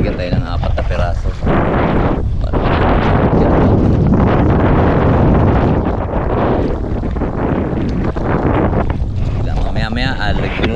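Strong wind buffets the microphone in heavy, continuous gusts, with muffled voices partly buried underneath.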